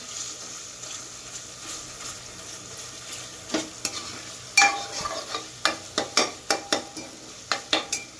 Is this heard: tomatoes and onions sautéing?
yes